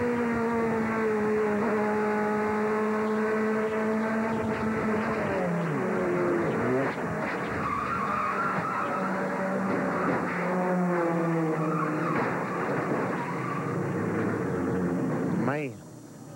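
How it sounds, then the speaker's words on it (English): An engine drones loudly from inside a 1996 NASCAR Goody's Dash Series race car at Bristol, its pitch rising and falling as it slows and shifts, ending in an abrupt skid and drop in noise. "And we're going to show you the in-car replay from George Crenshaw's vantage point real time"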